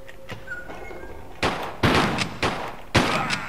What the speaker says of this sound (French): on va le buter au fusil à pompe